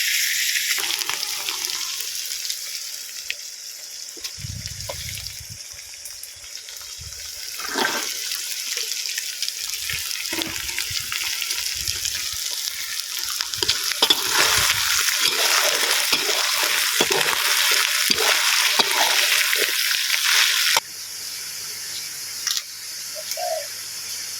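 Pork being stir-fried in a pan for a chili-paste curry stir-fry makes a hiss of frying broken by scraping stirs and occasional clanks, close by with some outdoor background.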